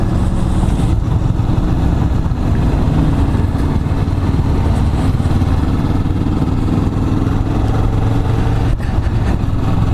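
A Kawasaki Vulcan S motorcycle engine hums loud and steady while riding on a cold day, a continuous low drone with wind rush and no talking.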